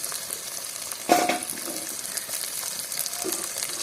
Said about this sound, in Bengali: পেঁয়াজ হালকা ভাজা হয়ে গেছে এখন দিয়ে দিচ্ছি কয়েকটা লঙ্কা কুচি আর আদা কুচি